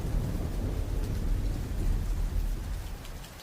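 A thunderstorm with heavy rain: a dense, continuous downpour over a deep, rolling low rumble of thunder that swells and eases, loud and close, with no talking.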